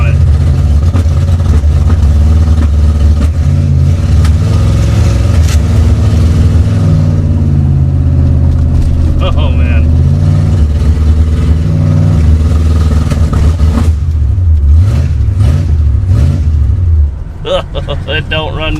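A barn-stored Pontiac, seized for 48 years, revs hard through an open exhaust, its loud, raw engine roar rising and falling in long pulls with rough, clattery undertones, a voice talking over it briefly.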